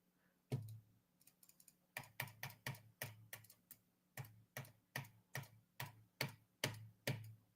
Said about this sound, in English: that's me clicking on what is not a video